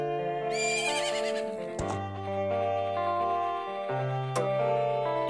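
A horse neighs in the video game Zelda: Majora's Mask 3D, a bright synthesized whinny layered over sustained musical tones, with a few sharp accents, clear and steady with no talk.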